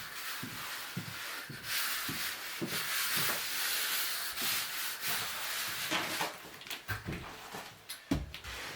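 A wood float pushes and rubs dry pack mortar across a shower floor around a drain, making rhythmic gritty scraping strokes up close that become choppier toward the end.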